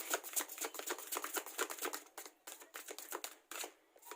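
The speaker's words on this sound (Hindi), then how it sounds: "कार्ड को मैं शफल कर लेती हूँ" Oracle cards being shuffled by hand make quick, papery riffling flicks in close, rhythmic bursts, soft and near with brief pauses between runs.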